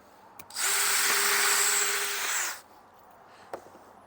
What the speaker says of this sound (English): that drills a hole for each screw